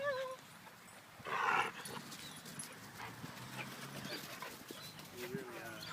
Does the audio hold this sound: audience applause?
no